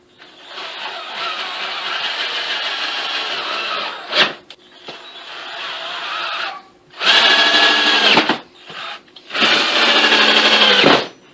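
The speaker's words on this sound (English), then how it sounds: "And then we drive 4 screws" A power drill drives screws into wood pieces in several sustained whirring runs, the first two long and steady, the last two shorter and louder as each screw seats, with brief pauses and clunks between, close by.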